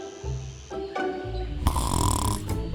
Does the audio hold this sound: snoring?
yes